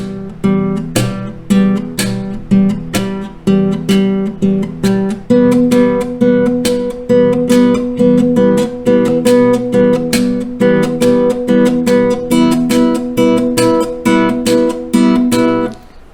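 A fingerstyle guitar plays a steady picked pattern with sharp percussive slaps landing on beats two and four, bright and close, in an even rhythm that runs throughout with no talking.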